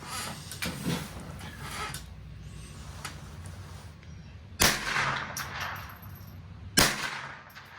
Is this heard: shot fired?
yes